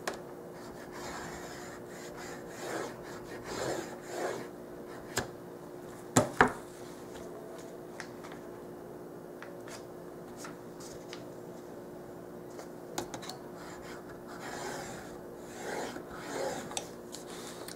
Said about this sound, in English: We're scoring the places where we're going to fold the paper later.